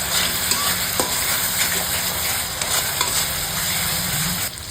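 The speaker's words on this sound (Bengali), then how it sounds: "এবার মশলাটা ভালো করে কষে নিব।" Spice masala fries in a pan, a loud continuous sizzle with steady crackling and a few soft stirring knocks throughout, close and without speech.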